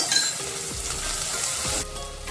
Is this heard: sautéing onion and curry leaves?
yes